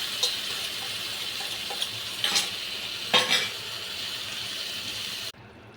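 Beaten yogurt masala hitting a hot pan for an aloo curry sizzles steadily while a spoon scrapes and clinks against the pan in a few distinct strokes, close and fairly loud, cutting off near the end.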